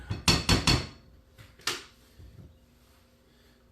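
Cowboy cookie dough being mixed by hand in a bowl, with a few sharp clattering knocks of utensil against the bowl early on, then quieter scraping and soft thumps.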